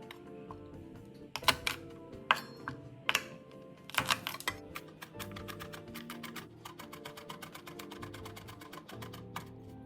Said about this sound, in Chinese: 蒜瓣20克，剁成蒜泥备用。